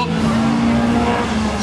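Rallycross race car at a Norwegian bilcross C-final, a green Volvo 740 leading: a loud, sustained engine drone with tyre noise on the track, steady throughout.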